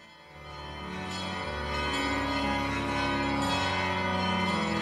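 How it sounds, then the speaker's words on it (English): Bells of St. Peter's Basilica ringing at the Christmas Vigil Mass, a dense wash of overlapping chimes swelling from soft to full and sustained, heard alone with no speech. "At this moment you hear the bells of St. Peter's ring out."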